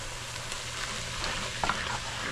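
Tomato paste stirring and frying in a pot of Italian chili, a steady close sizzle with soft scraping from the spoon and a few brief clicks, no talking.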